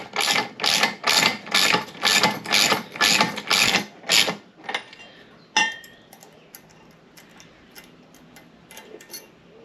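A ratchet wrench clicks in a steady run of about a dozen loud, close strokes while tightening the propeller nut on a Mercury Pro XS 115 outboard, then slows to a few sparse metallic clicks and clunks.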